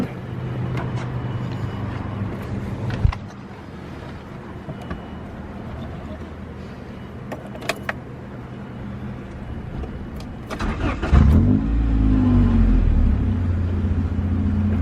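A 1991 Acura Integra RS engine cranks and fires up, then settles into a steady, smooth idle with a low rumble, preceded by a quieter background hum and a few clicks.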